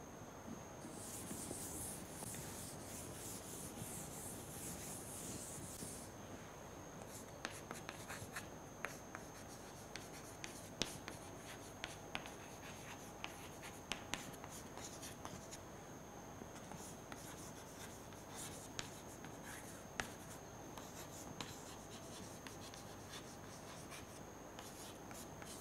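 Chalk or marker scratching across a lecture-hall board, a long run of quiet rubbing strokes with sharper taps scattered through, faint and without talk, over a steady background hum.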